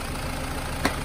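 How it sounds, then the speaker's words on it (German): A car engine with a rattling, knocking fault idles steadily close by, a continuous low drone with a brief click near the end and no talk. "Motor läuft."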